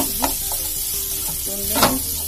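Boiled mashed potatoes sizzle on a hot tawa with steady frying hiss, punctuated by a few scraping stir strokes of a spatula, close and moderately loud, no voices.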